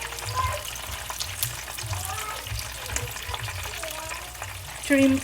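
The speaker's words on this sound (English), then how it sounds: "let's fry this fish on both sides till it's crispy and golden brown" Steady crackling sizzle of fish frying in a hot pan until crispy, continuous and close, with faint clinks near the end.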